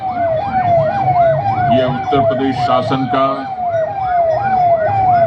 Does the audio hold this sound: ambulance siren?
yes